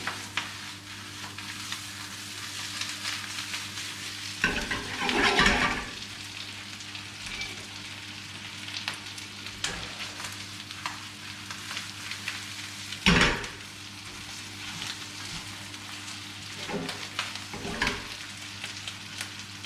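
Potato and ricotta gnocchi sizzling in a pan, a steady close frying hiss broken by louder scraping stirs around five and thirteen seconds and a few lighter clinks, no voices.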